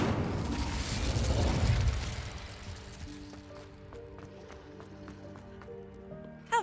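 In a Harry Potter video game, the Incendio fire spell bursts with a loud whooshing blast that swells and then fades into a softer tail of sparkling, ringing effects, ending in a brief sharp pop.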